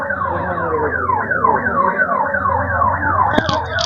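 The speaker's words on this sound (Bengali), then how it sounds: "এত ভিড়ের মধ্যে দিয়ে কিন্তু বাইক অ্যাম্বুলেন্সের ব্যবস্থা রয়েছে ওই দেখুন যাচ্ছে" Bike ambulance siren during the Tarakeswar pilgrimage crowd, a loud, fast-cycling wailing tone repeating steadily and close by, with a sharp click near the end.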